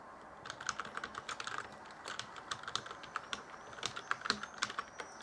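Fingers type an email address on a computer keyboard, a quick irregular run of light key clicks heard close and alone, with short pauses between bursts.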